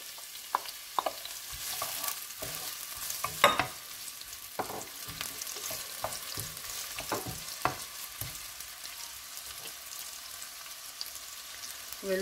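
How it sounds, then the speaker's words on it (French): Onions frying in oil alongside fatty lardons for spaghetti carbonara, a steady soft sizzle with frequent stirring scrapes and occasional sharper clinks of a utensil against the pan. "Vous faites revenir les oignons dans de l'huile."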